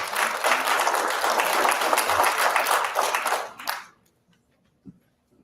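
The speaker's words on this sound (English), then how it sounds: "please hold the applause" Applause from the audience at a party chair candidate forum, a dense burst of clapping lasting a few seconds before stopping abruptly into near silence, with one faint thump afterward.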